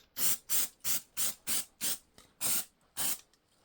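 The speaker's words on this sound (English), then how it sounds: "I'll spray it on and I'll give you a little show to see" A pump spray bottle of cleaner squirts onto a Benelli TRK 502X motorcycle in about nine quick hissing bursts, close and loud, with short pauses between them.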